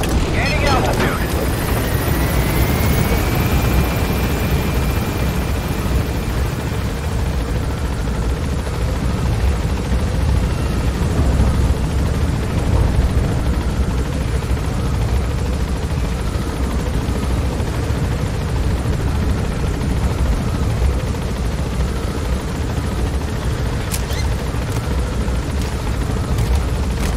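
A helicopter gains altitude in Metal Gear Solid 5, its loud rotor thrum and engine roar droning steadily throughout, with a rising whine near the start and game voices talking over it.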